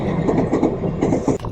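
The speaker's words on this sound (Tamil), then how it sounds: "ட்ரெயின் போயிடுச்சு." A train passes a railway crossing, a steady rumbling roll of railcars with rhythmic clatter of wheels over rail joints, close and fairly loud throughout.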